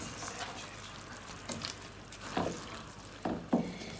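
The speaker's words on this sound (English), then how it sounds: "just stir your meat in and serve straight away" Beef trinchado meat being stirred into a hot pan of thick sauce: low sizzling underneath, with a few distinct scrapes and clunks of a utensil against the pan, fairly quiet and close.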